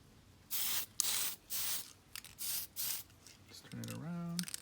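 Several short bursts of aerosol spray primer being applied to a model car kit, an El Camino promo model, each hiss sounding loud and close and separated by brief pauses, followed by someone speaking at the end.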